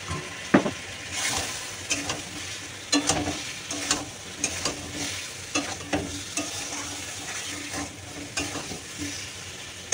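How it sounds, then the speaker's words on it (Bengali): Turmeric, salt and chili powder sautéing in a pan, with a steady sizzle broken by repeated scraping stir strokes of a spoon against the pan, close and fairly loud, no talking. "দিয়ে এবার এটাকে আমি সুন্দর করে কষতে থাকবো"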